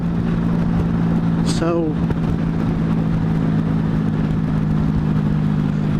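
A 1996 Honda Magna 1100 motorcycle engine idles steadily up close with a low, even hum, while a brief voice speaks over it near the start.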